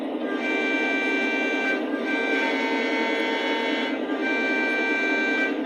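A Lionel LionChief Plus model train horn in the Conrail sound sounds in long sustained chords, a few blasts in a row over steady rumbling, loud and close with no talking.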